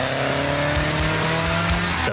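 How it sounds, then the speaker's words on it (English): Front-engine Mini rally car drifting through a corner at the San Marino Rally Legend, engine droning loudly and steadily with tyre squeal throughout, close and continuous, ending in a sharp burst. "the front-engine Mini drifts around the corner"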